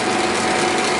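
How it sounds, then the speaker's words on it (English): A lathe drills a center hole in a metal collar for a fine adjustment head assembly, giving a steady, loud mechanical whir with a faint ratcheting texture for about a second, with no talking. "so we can start the drilling process."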